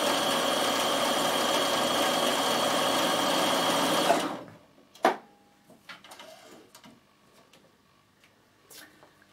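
A Bernina 1008 sewing machine runs a zigzag stitch at steady speed for about four seconds with a dense mechanical whir, then stops, leaving a few faint clicks and handling sounds.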